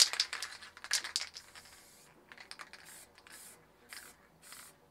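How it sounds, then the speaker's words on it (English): Black spray paint hissing from a can onto a stencilled art piece, several short close bursts with rattly clicks at first, then fainter intermittent sprays with pauses between. "So first of all, we're going to spray it black."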